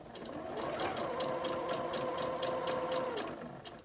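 A sewing machine stitches steadily at a quick, even pace with a rapid mechanical rattle and a humming motor tone. It sounds close and runs for a few seconds without talk.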